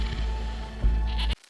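Short goat bleat, close and fairly loud over a low rumbling background, cut off abruptly at the end.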